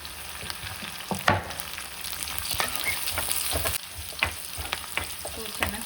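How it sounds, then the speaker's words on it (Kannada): Onion and capsicum fry in a pan for chicken manchurian, a steady crackling sizzle broken by sharp scrapes and clinks as the vegetables are stirred, close and moderately loud with no voices. "ಆನಿಯನ್ ಸ್ವಲ್ಪ ಗೋಲ್ಡನ್ ಫ್ರೈ ಆಗಲಿ, ಚೆನ್ನಾಗಿರುತ್ತೆ"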